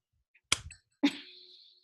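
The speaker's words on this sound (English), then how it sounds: "You have to do the clap." Two sharp hand claps about half a second apart, close and crisp in an otherwise quiet room, the second ringing out briefly.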